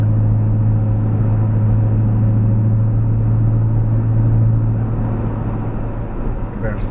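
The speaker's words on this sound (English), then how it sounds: "Better slow down. Driving too fast." A car driving fast along a road gives a steady, loud engine and tyre rumble with a strong low hum that holds through the whole stretch, easing slightly near the end.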